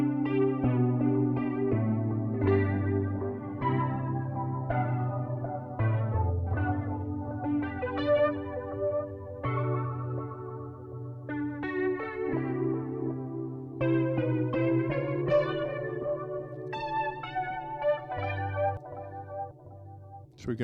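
A melodic instrumental line plays through a Moogerfooger MF104 analog delay effect, each note trailed by darker, softer repeats that fill the gaps between phrases.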